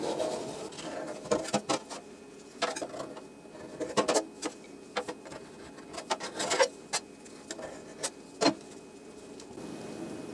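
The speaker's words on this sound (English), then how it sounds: "I clean up with scrapers and a clean dry rag" Metal scrapers rasping and scratching away squeezed-out plumber's putty around a sink basket strainer, a steady series of close, uneven scrapes and clicks over a continuous rubbing texture.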